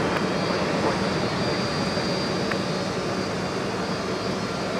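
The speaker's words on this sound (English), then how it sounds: "Gotta love the sound of the Pratt & Whitney 4000 series turbofan engines on the A330-200." Pratt & Whitney 4000 series turbofan engines on an Airbus A330-200 at Minneapolis–St. Paul Airport give a steady, broadband jet roar that holds at an even level throughout, with no talk over it.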